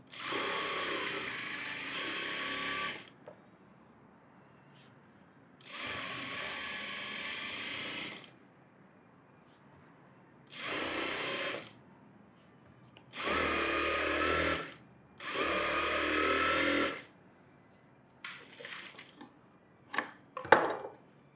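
Sewing machine stitching a net model blouse, running in five separate bursts of a few seconds each, with quiet pauses between them and some faint clicks near the end.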